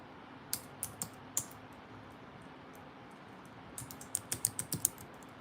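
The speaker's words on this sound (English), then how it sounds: "I'll start typing these names as I see them" Computer keyboard keys tapped in short bursts while names are entered, a few isolated clicks early on and then a quicker cluster of keystrokes near the end, close and fairly quiet over a soft steady hiss.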